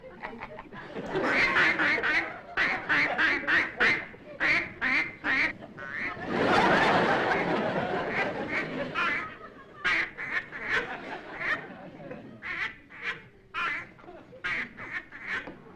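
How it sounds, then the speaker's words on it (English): A duck quacks loudly and repeatedly in rapid, honking bursts, close by, nearly continuous across the stretch with a brief noisy flurry in the middle. "that duck of yours is making an awful lot of noise"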